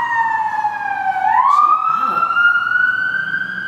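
An emergency vehicle siren in Los Angeles wails loudly and close, a steady sweeping tone that dips and rises, with a person speaking faintly beneath it.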